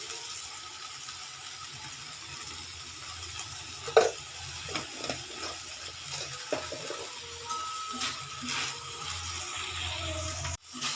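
A spoon stirs drumstick flowers and sugar in a pan, soft scraping and irregular clicking strokes over a low sizzle, growing busier toward the end.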